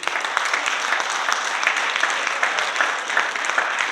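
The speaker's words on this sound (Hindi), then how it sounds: "सबसे पहले आपके लिए इसलिए तालियां" Audience applause fills a hall during a motivational talk on direct selling in Delhi, a steady dense patter of many hands clapping at moderate distance, continuous for several seconds with no voices over it.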